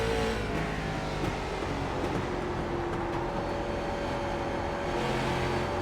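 Street stock race car engine held steady on throttle through a corner at a short track, a continuous droning roar from in-car with steady harmonic tones throughout.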